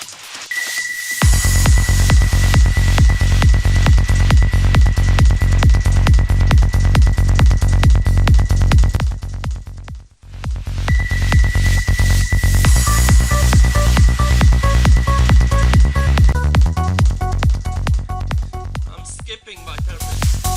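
Psytrance track in Cubase 5 drives a loud, steady four-on-the-floor kick with rolling bass and a sustained lead tone, dropping out briefly near the middle before returning with added melodic notes.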